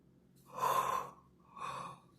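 A person yawns during a Bible reading on Numbers and Deuteronomy, a long drawn breathy exhale followed by a second, softer breath, close and quiet with no talking.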